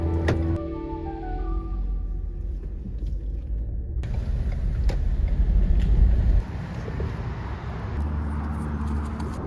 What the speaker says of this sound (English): Excuse the loud noise from the freeway nearby